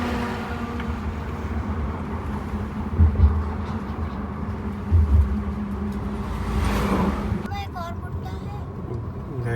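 A Tata Harrier EV electric SUV cruises along a road on freshly changed tyres, with continuous low road and tyre rumble, a couple of soft bumps, and faint voices toward the end.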